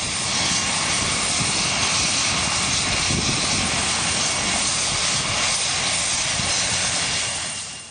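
Ambulance helicopter in Bodrum, Turkey, a loud continuous rotor and turbine roar held steady throughout, close and dense with no voices heard.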